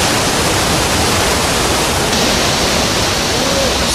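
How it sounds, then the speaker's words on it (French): A cascade pours over rock at a spring resurgence, a loud, steady, broadband roar of falling water heard close and unbroken throughout. "on est en train de monter au-dessus de cette superbe cascade qui n'est autre qu'une résurgence"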